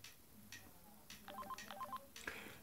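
Melodic electronic ringtone from a 1999 Trium MT-140 Astral mobile phone, a short run of stepped beeping notes playing faintly over low room noise, with a few soft clicks before it.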